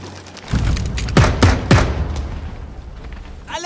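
A firing squad volley in the video game Jagged Alliance 3: several loud, close gunshots crack in quick succession, each with a booming tail over a dense rumbling battle background.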